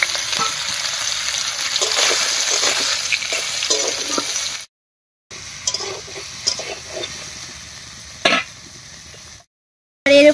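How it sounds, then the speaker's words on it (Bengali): Soybean chunks frying in mustard oil in a wok, a steady close sizzle with scattered crackles and stirring clatter, broken by two short silent gaps. "এবার কড়াইয়ে সরষের তেল দিয়ে সয়াবিনটা হালকা করে ভেজে নেব।"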